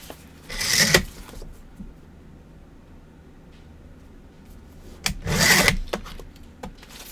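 Paper is cut to size for scrapbook base pages with two separate slicing strokes, about four seconds apart, each a short gritty scrape over a quiet room background.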